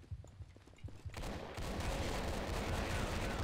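Rapid gunfire from a German team shooter video game starts with a few scattered shots, then breaks into a dense, continuous volley that stays loud and steady to the end.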